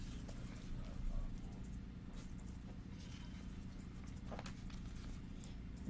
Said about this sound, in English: she comes forward in this division with her horse FGF Papamac